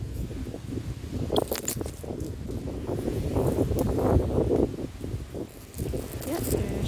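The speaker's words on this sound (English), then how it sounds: "Yeah, there's the fall wind." Autumn wind gusts outdoors in a garden among dry marigold and calendula plants, a rushing, rustling roar that swells and dips close to the microphone while a person talks over it.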